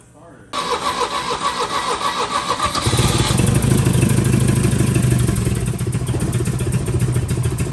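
An old 1975 Chevy Vega Cosworth Twin Cam engine, left sitting for about 20 years, cranks and catches, then settles into a loud rough running rumble up close, with voices audible early on.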